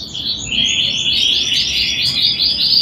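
A yellow mosaic canary chick, a female-line youngster, chirps in its cage with a steady run of thin, high tweets that rise and repeat close by, and no one speaks.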